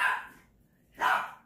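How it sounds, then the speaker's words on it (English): Two loud barks from a dog indoors, close by, spaced about a second apart with no talking between them. "Excuse my dog."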